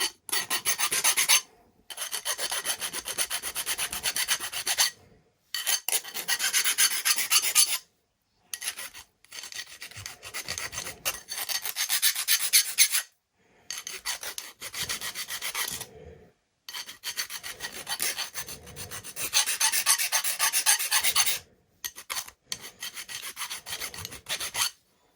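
Hand file rasping burrs off carbon rods during a Ritewing Mini Drak flying-wing build, in repeated bursts of steady scraping strokes separated by short pauses, close and loud with no talking.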